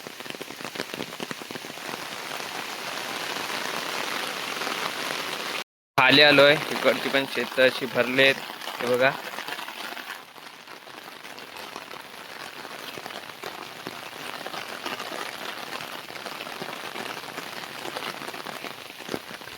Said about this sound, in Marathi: पाऊस चालूच आहे कंटिन्यू